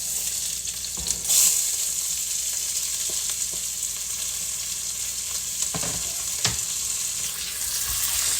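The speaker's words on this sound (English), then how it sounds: "I'm going to add my onions in, and I suggest that you just listen" Onions added to hot oil in a pan sizzle in a steady, close crackling hiss, with a few soft clunks and stirring knocks rising briefly above it.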